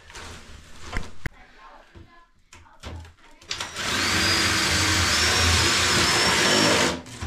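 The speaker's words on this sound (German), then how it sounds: "So, Susanne bohrt das jetzt professionell auf." A loud, steady power drill whirs continuously for several seconds, drilling into an old, rotten 40-year-old cabinet during a bathroom renovation, preceded by scattered clunks and brief talk.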